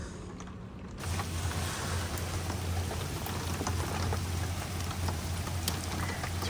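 Rain falls steadily on trees around a campsite, a dense hiss of drops that starts quieter and swells to an even, constant patter after the first second.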